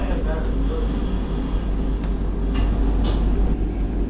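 A Southern Railway Tirupati–Arakkonam MEMU train stands at a crowded station platform, giving off a steady low rumble with a busy wash of background noise.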